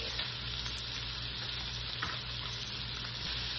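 Garlic sizzles in a pan alongside golden-browned sausage, a steady, close frying hiss throughout with no talk.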